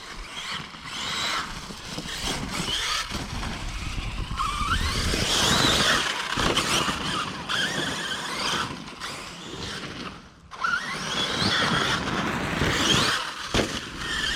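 An HPI Savage RC monster truck runs hard at full throttle with a continuous high-pitched motor whine and tyre squeal and scraping, loud and steady for most of the stretch with one brief dip near the end.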